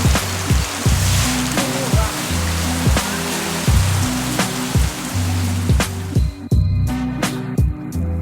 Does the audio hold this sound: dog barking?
no